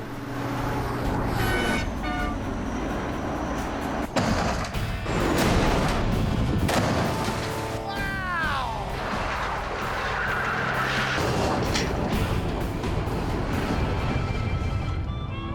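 Mythbusters crash test with a truck racing toward impact at about 50 mph: traffic-like engine noise and a horn toot build toward a loud crash, followed by clattering and rumbling at a moderate distance.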